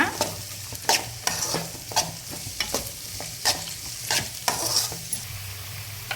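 Mixed vegetables sizzle and fry in a pan for egg fried rice while a spoon stirs and scrapes repeatedly in a brisk, irregular rhythm, close and clear, with no talking.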